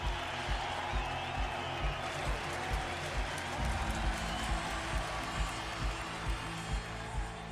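A Formula 1 race crowd roars and cheers continuously, a dense wash of distant voices and applause filling a large venue, with faint rhythmic thumps underneath.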